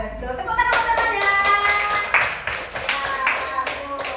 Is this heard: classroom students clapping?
yes